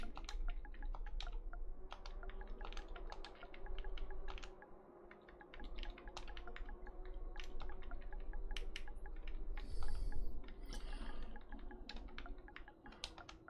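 Rapid typing on a computer keyboard, close crisp key clicks in quick bursts with brief pauses over a low background hum.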